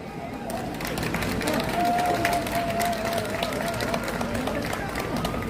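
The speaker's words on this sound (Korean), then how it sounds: "우리 정경희 의원님을 위해서 박수 한번 부탁드리겠습니다" A street rally crowd in Gwangbokdong claps in scattered, uneven bursts amid general crowd noise and babble. Voices carry under and over the clapping, and a thin steady tone runs through the middle.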